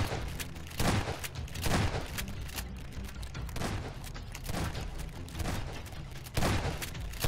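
Rapid bursts of gunfire in a Garry's Mod horror map, loud and dense, with repeated heavy volleys spaced across the span and a steady clatter of shots in between.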